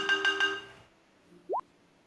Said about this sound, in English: I forgot to mute my phone.